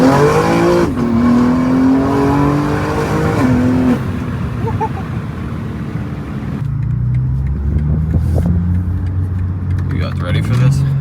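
A straight-piped BMW G80 M3 revs hard and drones loudly while sliding and spinning, then drops off into crackling exhaust pops, with someone talking throughout.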